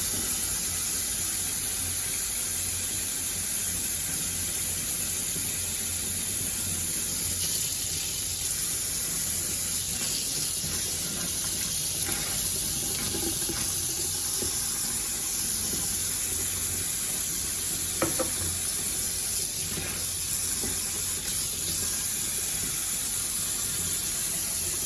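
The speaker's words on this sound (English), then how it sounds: "Now we open the faucet," Tap water gushes steadily from a faucet just opened after a whole-house filter is installed, a continuous broadband hiss with occasional sputters as air escapes the line, fairly close and without talk.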